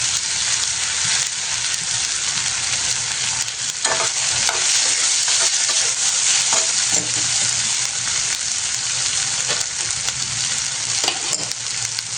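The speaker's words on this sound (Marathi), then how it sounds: "कांदा इथे परतला जात आहे आणि याच्यामध्ये अद्रकचं पण मी तुकडे टाकत आहे" Onion and ginger pieces sautéing in a pan for a Maharashtra-style chicken rassa bhaji, giving a loud, steady sizzle with occasional scraping stirs throughout, no voices.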